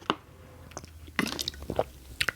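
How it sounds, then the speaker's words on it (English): Someone with a dry throat drinks water, with close, soft wet gulps, squishy mouth sounds and small slurps scattered unevenly, quiet and without talk. "I'm trying to drink some water like this"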